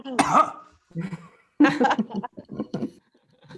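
A person imitates coughing, producing a few short, harsh coughs in quick bursts, close and fairly loud.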